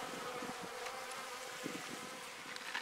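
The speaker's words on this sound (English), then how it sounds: "And this hive is humming." Bees hum inside an open beehive, a continuous soft buzzing drone with faint individual wingbeats flickering through, fairly quiet and alone.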